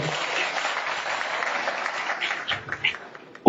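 Audience applause for the managing director of the Nigeria Railway Corporation, a steady burst of clapping from a crowd that thins into scattered claps before a sharp final thump.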